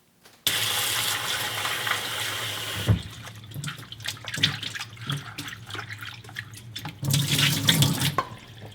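A kitchen water tap runs hard for a few seconds, then water splashes and drips while shiitake mushrooms are rinsed and handled under it, and a second burst of running water follows near the end.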